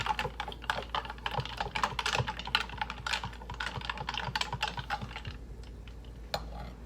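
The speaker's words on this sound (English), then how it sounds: "I like to stir drinks with a knife." A knife stirring homemade cherry Diet Coke in a glass gives a quick series of light clinks and taps that continue steadily for several seconds and thin out near the end, with no talking.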